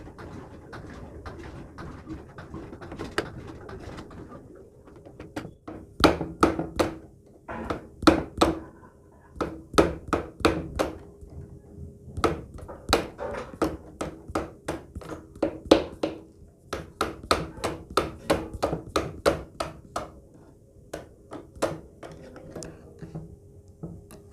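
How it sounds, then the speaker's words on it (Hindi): A metal pin is hammered into a sewing machine part during repair, likely in the needle bar link or shuttle timing setting, heard as bursts of sharp, close taps in quick clusters with brief pauses, louder after a quieter start. "तो देखिए ये कील लगाई, अब हम इसको ठोक देंगे।"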